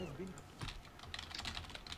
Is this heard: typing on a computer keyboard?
yes